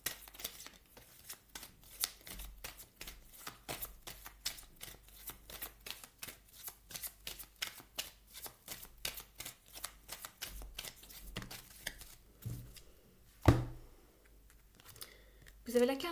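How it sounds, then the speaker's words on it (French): A deck of Spirit Messages oracle cards is shuffled by hand in a rapid, even run of riffling flicks lasting most of the stretch, followed near the end by one sharp louder snap and a few softer shuffles. "Je vais vous tirer une carte ici maintenant des Spirit Messages"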